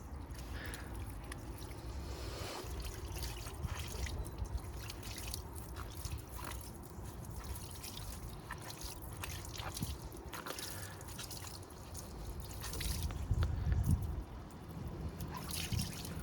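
Water drips and trickles irregularly from a rinsed carpet cleaner filter left to dry, a run of small close patters that swells briefly near the end.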